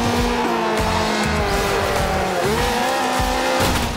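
A race car in the Forza Horizon 2 video game drives with a loud, steady engine drone that climbs and shifts in pitch, with tire squeal and skidding throughout and no talk.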